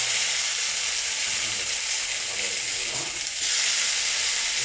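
Onions and tomatoes sauté in oil in a pan, giving a steady, loud broadband sizzle that runs unbroken throughout with a slight dip near the end.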